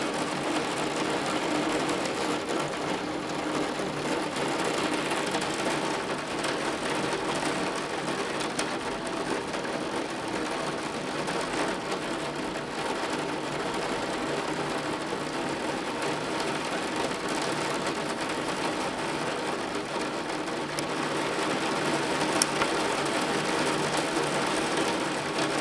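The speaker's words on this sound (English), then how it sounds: "It is genuinely raining so hard that some of it is immediately evaporating off of the roof" Heavy rain pours steadily onto a roof and overflows the gutters, a dense, continuous hiss and patter that stays loud and even throughout, with no voices.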